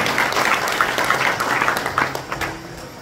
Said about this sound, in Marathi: जोरात टाळी वाजून विनम्र अभिवादन